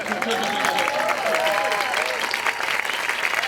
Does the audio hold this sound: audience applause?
yes